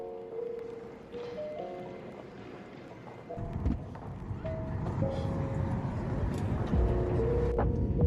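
Car interior drone on an early-morning drive, a steady low road rumble that grows fuller and louder partway through, with faint tonal hums and small bumps running underneath throughout.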